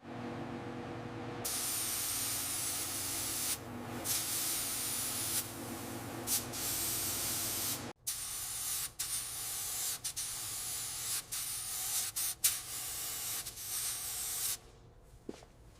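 Primer sprayed from a gun onto the body of a Thomas Flyer car during restoration, a steady close hiss lasting most of the time, with a break midway and short bursts later before fading out.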